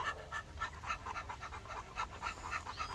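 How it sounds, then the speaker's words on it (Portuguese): An American Bully dog pants with its mouth open, a close, steady series of quick, rhythmic breaths lasting the whole three seconds. "Por que que ele tá com a boca aberta, Fernando, e não quis tomar água?"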